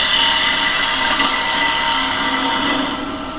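A carbide tool cuts Zebrano wood spinning on a lathe, making a steady, loud, hissing scrape that holds evenly for a few seconds and eases slightly at the end.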